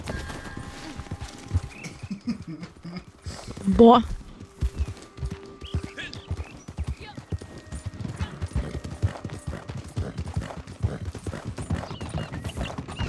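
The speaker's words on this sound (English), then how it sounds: "I like it when my horse runs." Rhythmic hoof clip-clop of a running horse in Red Dead Redemption 2, steady and moderately loud, with a short whinny-like burst partway through and a voice speaking briefly.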